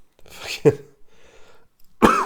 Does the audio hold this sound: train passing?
no